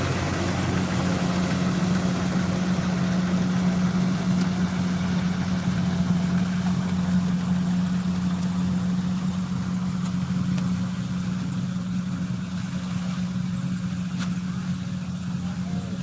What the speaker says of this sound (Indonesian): lihat proses untuk kalau panen pakai alat mesin